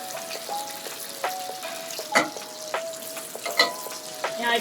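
Butter melting and foaming in a tilted pan while cooking lobster pasta with saffron bouillabaisse gives a steady soft sizzle, with intermittent utensil clicks and scrapes close by.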